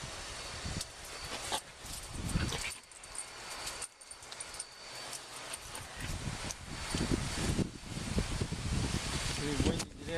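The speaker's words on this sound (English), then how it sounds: "Pretty windy today" Gusty wind buffets the microphone with low rumbling bursts while someone picks cherries up a tree, alongside rustling and a voice talking intermittently.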